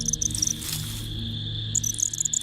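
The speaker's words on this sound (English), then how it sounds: "The elastic silk tightens around the cricket." A cricket caught in a netcasting spider's elastic silk struggles at night, giving steady high insect chirping with brief bursts of rapid trilling at the start and end.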